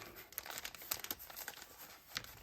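Scissors cut through a stack of eight pre-glued paper bags, giving a steady run of close crinkling, crunching snips with brief sharper bursts, heard alone without talk.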